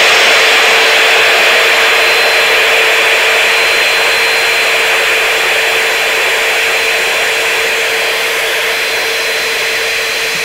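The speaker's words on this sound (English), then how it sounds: "You can take your vacuum and try to get as much as you can out by just circling the rim." Vacuum cleaner running steadily and loudly, sucking dust and crumbs from underneath and around the rim of a SNOO bassinet base, a constant close whine with no talking.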